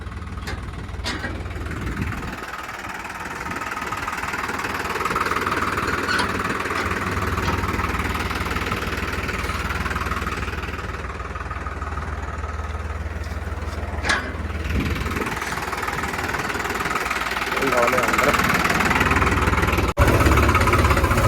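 A tractor engine runs steadily while being parked inside a shed, a loud, close, low mechanical drone with slight changes in revs and a few knocks, and no talk.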